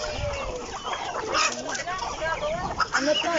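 Several chickens cluck and chatter close by on a banana plantation, a busy flock of mixed breeds including Brahma, with overlapping calls.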